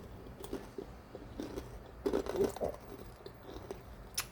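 Close, crisp crunches of someone biting and chewing a fried samosa, several bites spaced irregularly with quiet chewing between.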